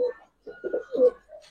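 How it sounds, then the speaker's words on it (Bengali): Pigeons cooing up close, pink-beige doubles kept as pairs in a pigeon market: several soft, low, throaty coos in short bursts with brief pauses, plainly audible with no voices. "দেখেন একবারে গোলাপি ঘিয়ারের কবুতর, দোবাজ, এটাও দোবাজ একটা পেয়ার।"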